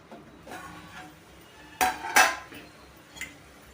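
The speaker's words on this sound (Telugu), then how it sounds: "మూత పెట్టేసి మగ్గేద్దాం." A metal lid goes onto a pot of ridge gourd and milk curry, giving two close, sharp clanks in quick succession, a fainter clink just after, and quiet kitchen background between.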